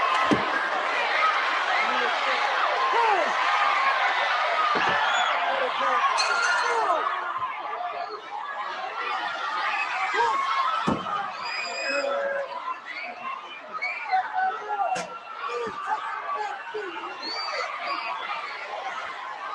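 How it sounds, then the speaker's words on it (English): A large wrestling arena crowd at a 1986 Great American Bash event, a broad steady roar of many voices with chanting mixed in, while commentators talk over it. "Listen to the crowd. See if we can hear him chanting."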